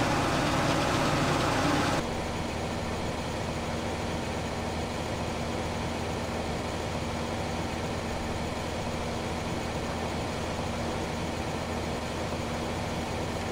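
A tractor engine in Farming Simulator 2015 idles with a steady low hum, starting with a brief louder burst before settling into an even drone.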